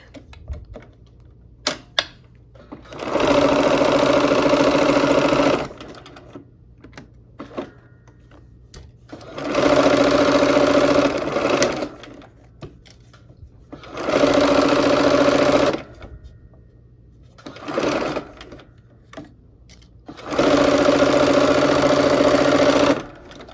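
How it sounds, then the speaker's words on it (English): A sewing machine stitches the final seam of a quilt block in five loud, steady whirring bursts of a few seconds each, separated by quiet pauses with faint handling clicks. "let's sew this last seam of the block"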